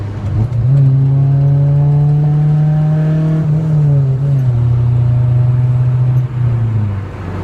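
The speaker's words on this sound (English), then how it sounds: "It has that, typical Honda growl to it, and you definitely know when you hit VTEC" A Honda Integra with a JDM engine swap revs hard through its VTEC crossover, a loud, close engine howl holding a strong steady tone that shifts pitch midway, with no talk over it.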